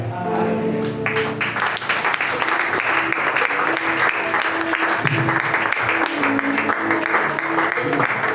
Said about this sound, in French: Vous avez applaudi pour Dieu.